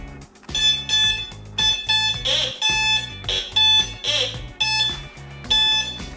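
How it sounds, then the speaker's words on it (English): Metal detector gives repeated electronic beeping tones in short pulsed bursts, with several louder chirps, over about six seconds. "A metal detector."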